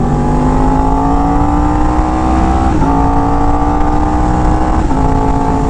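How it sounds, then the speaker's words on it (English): A Yamaha R1M motorcycle's loud exhaust drones steadily at idle, with a couple of brief throttle blips rising and falling in pitch. "this is a very loud exhaust"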